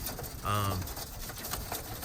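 A Birmingham Roller pigeon gives a short, low coo lasting under half a second amid faint background noise at a loft where young birds are being trained.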